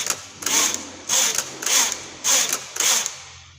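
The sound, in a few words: knitting machine carriage knitting rows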